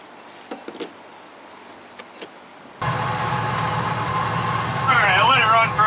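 Mazda FC RX7 rotary engine starts and settles into a steady, loud idle hum, running alone close by with a brief rise in pitch near the end.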